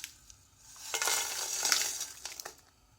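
Red chillies, coriander seeds, pepper and cumin being dry roasted in a pan, a soft rattling, hissing stir that rises for a couple of seconds and then fades, close and fairly quiet, without talk.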